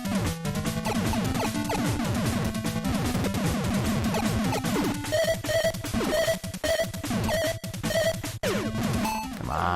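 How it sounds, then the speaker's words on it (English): Harsh, continuous electronic noise from a boss taking damage in the retro-style game 19XX, with dense clashing tones and a repeating tone pattern in the second half, loud and unbroken throughout. "That's the sound of him still taking damage, even though I've paused."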